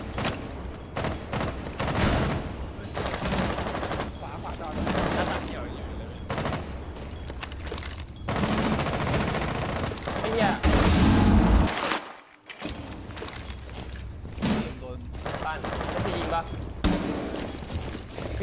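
Gunfire from a video game crackles in repeated bursts and single shots over about eighteen seconds, fairly loud and near, with a heavier blast near the middle as a player talks over much of it.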